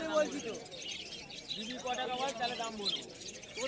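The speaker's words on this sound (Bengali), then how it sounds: "এই খাঁচাটার মধ্যে কিছু কনুর পাখি আছে, গ্রিন চিক কনুর আছে, ইয়েলো সাইড কনুর আছে।" Green-cheeked and yellow-sided conures in a cage at a bird market chirp steadily among busy crowd chatter. Bright, fast calls sit under someone talking.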